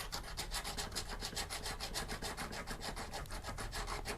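A rounded hand file rasps against a ring in quick, even back-and-forth strokes, about five per second, close and steady with no talking.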